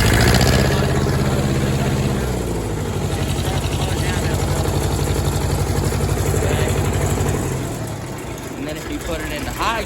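A tractor engine runs close and loud with a steady, throbbing idle and a rhythmic low chug, easing slightly quieter toward the end, while a person talks over it.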